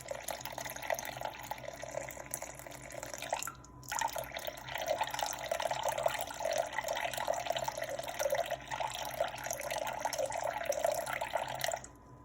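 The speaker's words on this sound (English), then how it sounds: "I'm going to tare that and add 350 grams of water, just room temperature water." Room-temperature water pours into a bowl for sourdough dough, a steady trickling splash close by that breaks off briefly and then runs on for several seconds before stopping.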